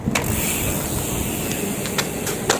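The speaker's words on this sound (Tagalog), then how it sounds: "Ayan, may mga sasakyan." Cars driving past on a road beside a cemetery, a steady broadband traffic roar with a few sharp passing whooshes, fairly loud and close.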